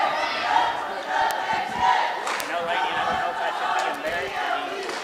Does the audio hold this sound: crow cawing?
no